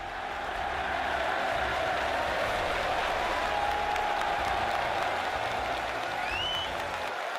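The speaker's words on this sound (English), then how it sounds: "And the crowd roars." A packed snooker crowd at The Crucible in Sheffield roars and applauds, a loud, dense, sustained wall of cheering and clapping that carries steadily throughout with no break.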